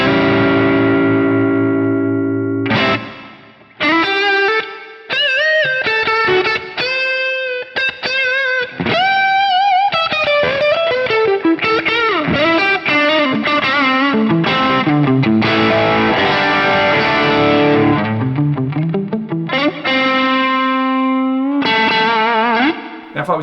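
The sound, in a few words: bluesy electric guitar on a Strat, with and without reverb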